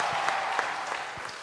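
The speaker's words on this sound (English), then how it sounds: "So give yourselves a big round of applause." Brief burst of conference audience applause, steady dense clapping from a room full of people with a faint voice or shout mixed in, short and even throughout.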